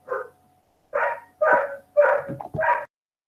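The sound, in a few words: dog barking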